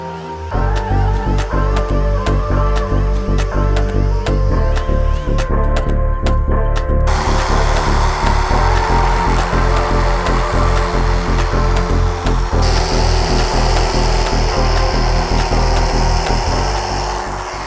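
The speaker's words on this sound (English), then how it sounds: "we're actually just going to shape this with our grinder now" An angle grinder shaping a Harley motorcycle reach seat, a steady loud whine running continuously throughout with slight shifts in pitch as it works the material.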